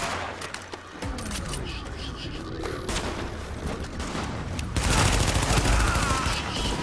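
Dense gunfire from the video game The Division, set in Brooklyn, crackles in rapid volleys and bursts, loud and continuous, with a heavier barrage toward the end and voices shouting over the shooting.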